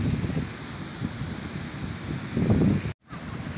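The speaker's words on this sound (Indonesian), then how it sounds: "Ya, ini pantainya." Wind roars and waves surge at Manalusu beach in Garut, South Garut, a steady rushing wash with a swelling low rumble near the end and a brief dropout, close and loud with no talking.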